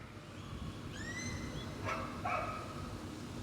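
A dog barks and yips a few times at a moderate distance over a low background hum, with no talking.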